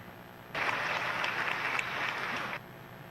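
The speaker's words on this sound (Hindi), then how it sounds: "आदरणीय विष्णु दत्त शर्मा जी, तालियां बजा के उनका स्वागत कीजिए।" A crowd at a political rally claps to welcome a state party president, a brief burst of applause lasting about two seconds and then cutting off, heard at moderate distance.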